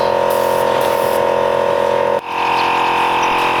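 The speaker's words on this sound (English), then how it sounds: "And the spray painting begins." Loud continuous hiss of a spray gun over the steady drone of an air compressor, with a brief dip partway through.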